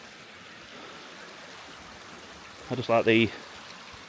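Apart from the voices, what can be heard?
stream of water flowing along a nature trail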